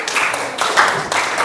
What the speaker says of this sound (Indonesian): Tepuk tangan, silakan duduk.